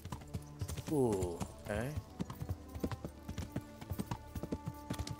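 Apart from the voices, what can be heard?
horse hooves clip-clopping while riding, from video game Kingdom Come: Deliverance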